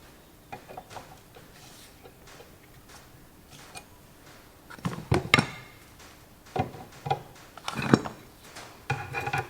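A metal part of a Massey Ferguson Multipower control valve being tightened in a vise, quiet ticks and rubbing at first, then clustered metallic clanks and scrapes of tools on metal, close by, with no talking.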